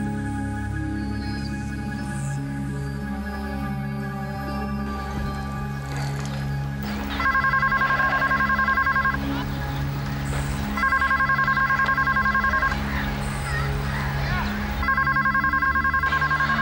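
A telephone rings in a Hindi TV drama scene: repeated bursts of electronic ringing sound in a regular on-off pattern over a loud background music bed.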